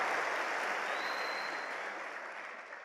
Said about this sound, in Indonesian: Tepuk tangan dong untuk Bandung.